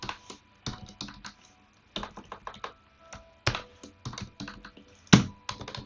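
Fingers type on a computer keyboard in quiet, close bursts of uneven clicking separated by short pauses, with one sharper keystroke near the end and no speech.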